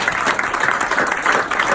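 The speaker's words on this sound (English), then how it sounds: "Please join me in applauding President Karzai" Audience applause at the Raisina Dialogue 2019 conference, dense, even clapping from a large crowd filling the short moment loudly and close.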